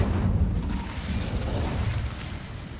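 Incendio fire spell cast in Hogwarts Legacy: a sustained whooshing, roaring burst of flame that stays loud and steady throughout, with no voices over it.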